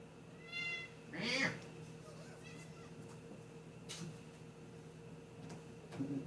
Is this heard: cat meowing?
yes